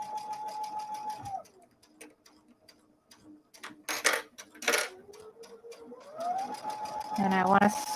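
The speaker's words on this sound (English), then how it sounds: "I have my foot pedal down here below, and I will stitch, and it does the automatic back stitch for me" Sewing machine driven by a foot pedal, doing an automatic back stitch while piecing fabric: a steady close whirring hum that halts, a pause with light clicks and taps, then the motor winds back up to stitching speed.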